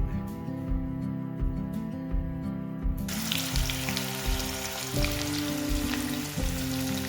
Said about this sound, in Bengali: আদা কুচি পেঁয়াজ কুচি রসুন কুচি কাঁচামরিচ এগুলো সবগুলো একসাথে গরম তেলে দিয়ে দিলাম